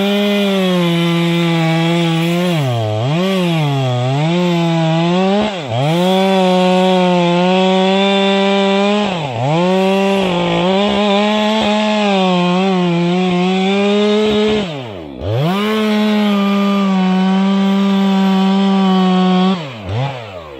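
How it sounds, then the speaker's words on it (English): A steel chainsaw cuts thick wood while felling a tree, its engine loud and close, droning steadily and sagging in pitch again and again as the chain bites under load, with no voices over it. "He starts the steel chainsaw, the engine roaring loudly."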